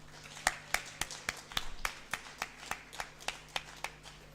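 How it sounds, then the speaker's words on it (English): Sparse, slow clapping from a small, subdued audience at an International Translation Day event, a dozen or so distinct hand claps spaced irregularly, fairly faint and with no voices over them. "Let's give our speaker a round of applause."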